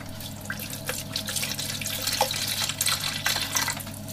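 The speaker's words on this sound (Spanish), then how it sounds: "Vamos a echar el vinito." White wine poured into a cooking dish in a home kitchen, a steady close liquid splash and trickle lasting a few seconds with no talk over it.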